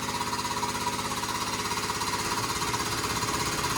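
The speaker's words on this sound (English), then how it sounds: "And there's the air compressor." Air compressor running steadily in a garage during FC RX7 roll cage work, a continuous loud, rapid pulsing mechanical chug throughout with no talk.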